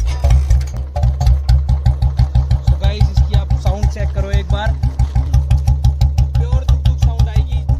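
A modified Bullet motorcycle engine idles close by with a steady, loud, rapid thumping pulse, and a voice speaks over it.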